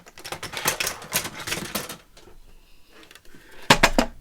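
A Tim Holtz paper trimmer slices through paper, giving a run of quick, crisp clicking and rasping strokes up close, then a quieter pause and a sharp final snap.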